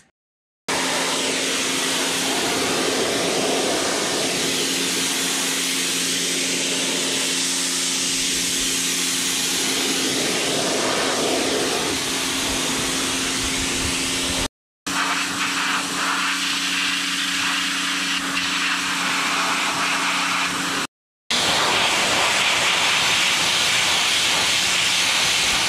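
A Greenworks Pro 1600 PSI electric pressure washer sprays a deck's bottom step with a loud, continuous hissing roar, cut by two brief silent pauses when the trigger is released.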